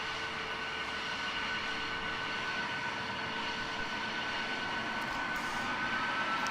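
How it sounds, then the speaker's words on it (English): An F-22 jet engine spins up during startup in the X-Plane 11 flight simulator, a steady, loud whine and roar holding evenly throughout with no speech. "As we can now hear the F-22 is now starting our left engine"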